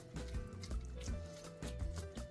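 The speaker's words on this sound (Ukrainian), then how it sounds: "Руки змочуємо гарненько водою" Hands being wet with water before shaping minced-meat filling on cling film: soft liquid splashes and drips in a few close, rhythmic bursts, with no talk.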